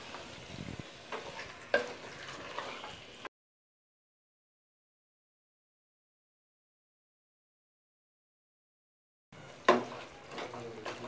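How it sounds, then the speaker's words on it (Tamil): Goat intestine gravy stirred in a pan, scraping and sizzling in two short bursts at start and end, separated by a long stretch of total silence. "சேர்த்துட்டு நல்லா ஒரு வாட்டி கலந்து விட்டுக்கலாம்"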